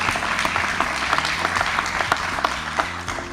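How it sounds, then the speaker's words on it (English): An audience claps at live election debate coverage of a state senate race, producing a steady, moderately distant patter of applause that holds evenly throughout. "So please give a round of applause for Medfield TV."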